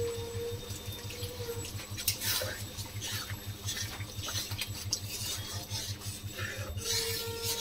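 Water being poured into a pan while doi katla (Bengali yogurt-based rohu fish curry) cooks, a soft splashing pour over a steady background hum, with a voice speaking faintly underneath.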